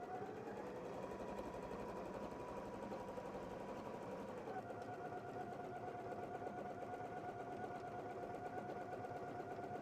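A Janome 3160-QDC sewing machine runs steadily through a decorative stitch pattern, its fast, even mechanical whir close and continuous, with a slight shift in pitch partway through.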